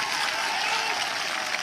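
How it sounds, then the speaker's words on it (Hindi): A political rally crowd in Jarmundi claps loudly for Harinarayan, a dense, unbroken burst of applause with no pauses. "हरिनारायण जी के लिए एक बड़ा तालियां लगाइए।"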